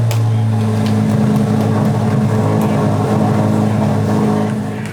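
A 2023 Chevrolet Corvette Z06 at a dealership in Tyler, Texas, its engine running with a loud, steady deep rumble and hum, close by, easing off slightly at the end, no talk.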